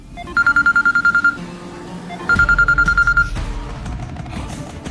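Telephone ringing in two bursts of rapid electronic trills, each lasting about a second, separated by a pause, loud and close with some background rustle and noise between rings.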